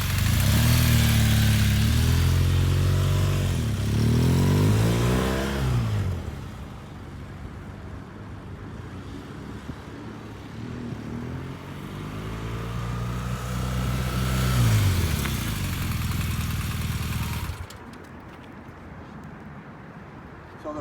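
A motorcycle revs loudly and accelerates, its engine dropping away as it brakes hard from about 25 mph, then a second rising pass of engine and another stop, heard fairly close with no speech.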